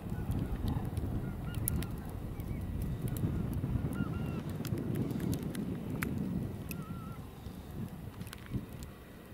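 A flock of geese honks repeatedly over steady wind noise during a spring goose hunt in snowy weather, the calls scattered and moderately distant across the whole stretch.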